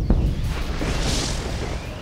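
A solar flare strikes the player's ship in the space strategy game FTL, a loud sustained rumbling blast that swells at the start and holds broad and heavy for about two seconds.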